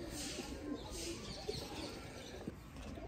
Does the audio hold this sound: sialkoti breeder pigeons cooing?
yes